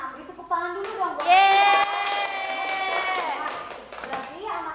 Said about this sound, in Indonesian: Nah, beri tepuk tangan dulu dong